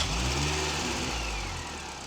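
A Mini Cooper S R53 engine revs up and settles back, a steady, close mechanical rumble.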